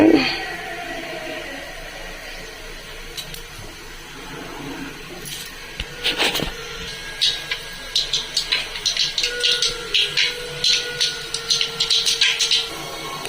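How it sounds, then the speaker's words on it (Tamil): Mustard seeds crackle and pop in hot oil in a home kitchen pan while cooking an egg and drumstick kuzhambu, with a quick, uneven run of small sharp spatters that grows denser toward the end, heard alone. "கடுகு பொரிஞ்சிச்சு"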